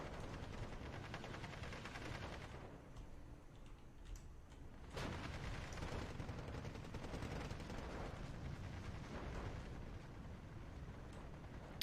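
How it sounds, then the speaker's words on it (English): Artillery fire support from a 105 howitzer in the wartime strategy game Steel Division 2, a continuous dense roar of distant shelling and crackling battlefield gunfire, with a sharp louder blast about midway. "Now the 105 is definitely giving some really nice fire support."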